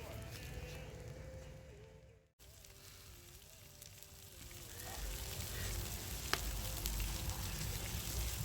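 Two porterhouse steaks sizzle over an open campfire alongside potatoes, a steady crackling hiss that grows slightly louder toward the end, with a brief dropout early on and faint talk in the background.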